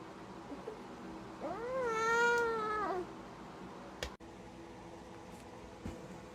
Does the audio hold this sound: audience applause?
no